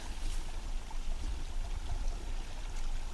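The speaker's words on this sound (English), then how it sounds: "I'm so glad there's some water moving in this creek." Gentle running water in a creek burbles and trickles continuously, soft and fairly close, with a low rumbling undertone and no talking.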